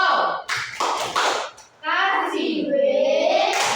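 Schoolchildren in an upper-grade classroom clap their hands in a quick rhythmic pattern, a few sharp bursts of claps followed by the children's voices.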